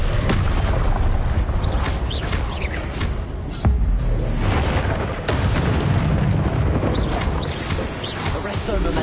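Explosive Confringo spell blasts in the Hogwarts Legacy game, loud booming bursts over dense combat noise, with a few sharp hits and spoken spell calls mixed in.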